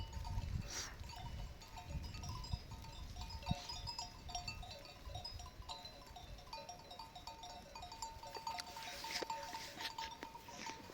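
Sheep and goats in a green farm field, with scattered bleats and faint cowbell-like clinks over a steady outdoor background, no talking.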